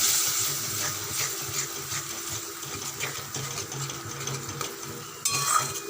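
Spice paste frying over lowered heat in a pan for a silver carp curry, a moderate steady sizzle with intermittent stirring scrapes and light clinks, nearby with no talk.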